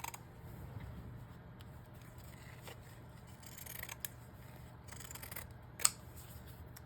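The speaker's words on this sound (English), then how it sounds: "And I need these scissors. So again, I'm going to cut this piece off here." Scissors snip through fabric in a quiet room, with a few short, faint cuts spread over several seconds and one sharper snip near the end, and no talking.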